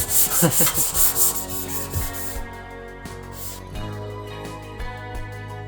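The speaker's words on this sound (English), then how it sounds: "Sanding out the little rust spots from stone chips and that." Rhythmic abrasive rubbing of sandpaper on a Nissan Safari's metal roof, sanding out rust spots from stone chips, loud and close, with fast back-and-forth strokes that fade into scattered lighter scrapes and taps.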